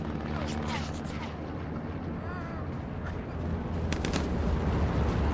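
Gunfire crackles through a dense, rumbling battle soundscape in the WWII shooter Hell Let Loose on the Tobruk map, with shots mixed into constant noise and players talking over it.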